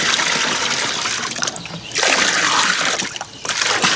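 Spring-fed water running from a hose, a steady gushing splash that briefly dips and returns, close and fairly loud with no talking.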